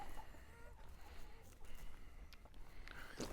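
Chickens cluck faintly in the distance outdoors, soft scattered calls over a low background hum.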